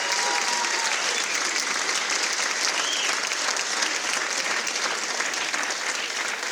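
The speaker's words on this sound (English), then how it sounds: "How about one more nice round of applause for our" A crowd at a college athletics hall of fame induction ceremony applauds steadily for the inductees, a dense, continuous clapping that holds at a constant level throughout.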